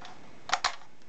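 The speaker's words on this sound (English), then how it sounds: "The shutter worked reliably." A Keystone 60 Second Everflash camera's electronically controlled shutter fires, giving two sharp mechanical clicks in quick succession, close and clear against a quiet background.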